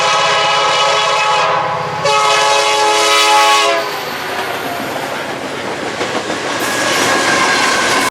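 A train passing close by, with long, loud horn blasts over the rumble of the cars, then the rhythmic clickety-clack of wheels on rail joints as the horn stops.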